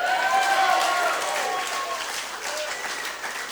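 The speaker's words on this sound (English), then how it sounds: "Can everyone give a round of applause for our MC tonight, Casual Cal?" Wedding guests applaud the master of ceremonies at a reception, steady moderately loud clapping filling the clip while cheers and a few voices rise over it early on.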